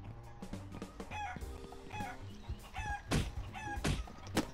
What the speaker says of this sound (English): Can I beat a chicken?